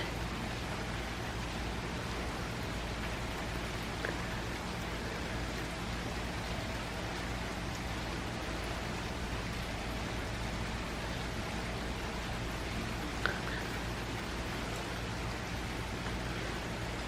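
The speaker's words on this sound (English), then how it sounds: "And it's raining again." A constant, even hiss of rain fills the whole stretch, soft and unbroken, with only a faint click partway through.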